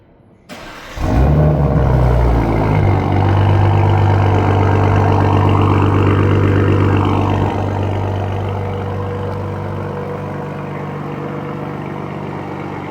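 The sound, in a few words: sports sedan remote engine cold start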